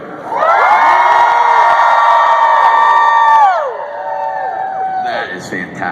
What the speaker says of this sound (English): Let me hear you guys yell real quick.